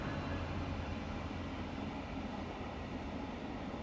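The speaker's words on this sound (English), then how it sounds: "A train going by. It's just so loud now." A loud train rumbles past nearby, a steady, dense roar holding constant for several seconds with no talk over it.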